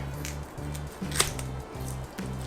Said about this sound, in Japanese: ハサミで切っていきます